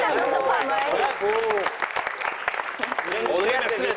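Studio audience on a French TV show clapping steadily throughout, while voices talk loudly over the applause.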